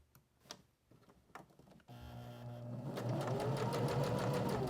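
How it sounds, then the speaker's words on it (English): A sewing machine top stitches the folded side flaps of a fabric journal cover, a sharp clatter of stitches that starts up partway through and runs steady and close after a few quiet handling sounds. "we're going to top stitch the side flaps just to reinforce that a little bit"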